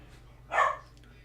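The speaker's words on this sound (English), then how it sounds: "Doggy goes bark. Please don't bark." A single dog bark, one short burst in the middle, moderately close over a quiet room hum.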